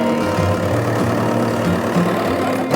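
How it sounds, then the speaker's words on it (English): A tractor idles nearby at a harbour in Carlingford, County Louth, Ireland, with a steady low, continuous engine rumble holding throughout and no voices over it. "There's a tractor sitting ready to go."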